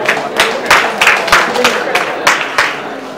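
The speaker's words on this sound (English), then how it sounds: "Round of applause for him" An award ceremony audience gives a brief round of applause, with a handful of distinct, uneven claps close by rather than a dense ovation.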